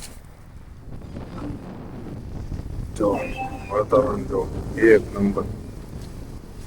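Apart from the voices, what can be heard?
strong wind outdoors at a farm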